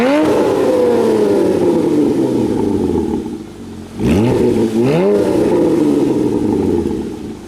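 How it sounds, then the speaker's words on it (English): A Porsche 981 Cayman GT4 fitted with an iPE exhaust revs loudly and close by, a long rising and falling engine note with a dip, then two quick sharp blips before settling into a steady high rev. "let's hear a couple of revs with the car in auto"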